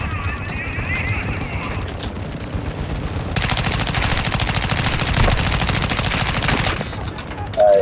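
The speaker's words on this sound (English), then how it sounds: "I'm taking fire" Sustained automatic gunfire in Call of Duty: Modern Warfare II DMZ, a dense rapid rattle of shots that grows heavier midway, with players talking over the firefight.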